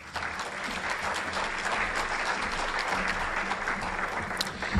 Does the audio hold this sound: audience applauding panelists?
yes